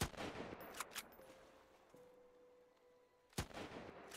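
Gunfire in the survival game Sunkenland: a few sharp, loud shots near the start, a quieter stretch with a faint steady tone, then another strong blast near the end.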